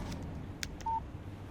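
A short phone text message tone in the video game Alan Wake, a single brief electronic beep that stands alone over a quiet background with a few faint clicks.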